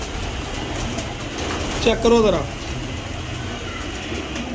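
A pigeon gives a single brief coo at a breeder's loft, rising out of a steady noisy background while someone speaks nearby.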